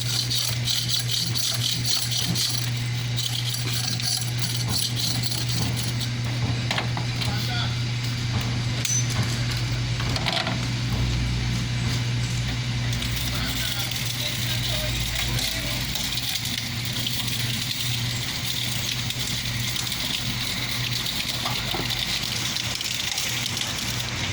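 A sugar cane juice press machine at a roadside vendor's stall in Road Town, Tortola, crushing cane with a steady low mechanical hum and rattle, running continuously close by while people talk over it.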